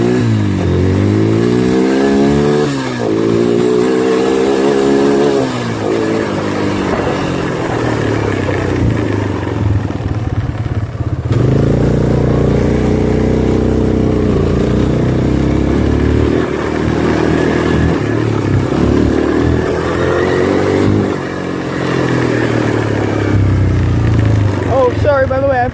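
A motorcycle ridden fast with wheelies, its engine loud and close as revs climb and fall in repeated surges, with steady wind rumble throughout.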